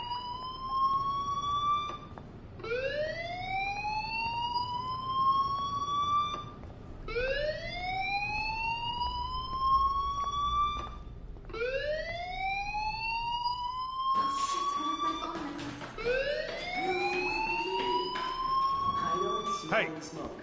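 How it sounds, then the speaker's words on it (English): In the game Life Is Strange, a fire alarm sounds as a repeating rising electronic whoop, cycling roughly every four to five seconds, loud and continuous, with other noises and a voice joining near the end. "Hey, do you hear that fire alarm? That means you should be outside."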